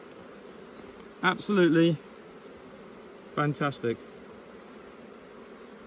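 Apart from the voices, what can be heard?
honey bees at hive frames of brood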